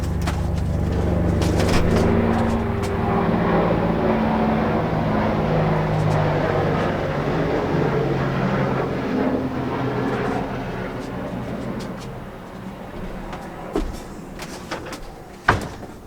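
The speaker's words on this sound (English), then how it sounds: "That, ladies and gentlemen, was an Apache helicopter flying over." A low, rumbling Apache helicopter drone roars close overhead and gradually fades, ending with a couple of sharp knocks.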